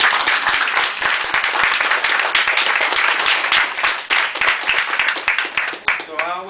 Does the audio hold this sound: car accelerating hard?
no